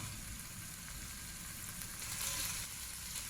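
Sausage pieces and small datterini cherry tomatoes frying in a pan for a Sicilian pasta with cauliflower, a steady close sizzle with crackling that swells briefly near the end.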